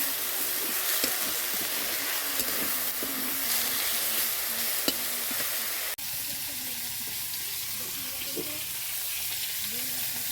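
Potatoes and pointed gourd sizzle in a home kitchen pan, a continuous close hiss with faint stirring taps and a brief dip in level halfway through; no speech.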